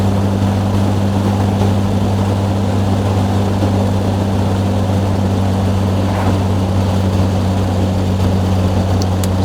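A 1960 Austin Healey 3000 MKI with factory hardtop, its engine holding a steady 2000 RPM while driving, produces a continuous droning hum with strong low tones, loud and unbroken, with no voices.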